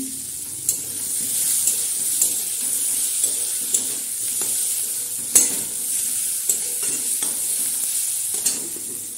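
Ground spice paste mixed with chilli powder fries in a pan, a steady close sizzle broken by regular scraping knocks as a spatula stirs it around.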